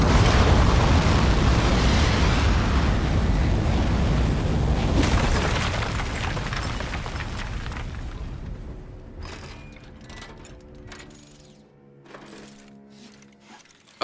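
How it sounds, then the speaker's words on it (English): A video-game rocket launch roars at liftoff with a loud, dense rumble through the first half, slowly thinning and fading, then giving way to scattered mechanical clicks and pops near the end. "We have liftoff."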